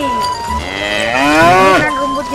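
Brown and red cattle grazing on grass give a loud, close, drawn-out moo that swells in the middle and then drops, with light rustling around it.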